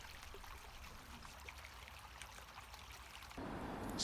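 Water of Pymmes Brook flowing at its source in Enfield, a soft continuous streaming and trickling that swells slightly louder near the end, with no voices.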